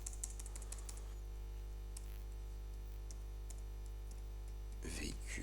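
Typing on a computer keyboard, a quiet run of rapid key clicks in short bursts over a steady electrical hum, with a voice talking partway through.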